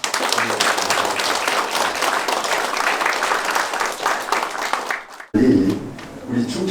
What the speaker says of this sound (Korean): 거기서 박수 한번 좀.